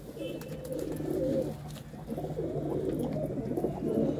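A golden jeera pigeon, a fancy breed offered for sale in Ludhiana, coos in low throaty rolls close by, with a speaking voice partly overlapping the cooing.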